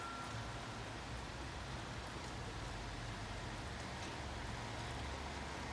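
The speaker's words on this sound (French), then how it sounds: "Forte averse. Ah, donc pourquoi pas un arc-en-ciel? Regardez comment il pleut." Heavy rain pours steadily in Lille, a dense, unbroken hiss of drops drumming on surfaces with no pauses.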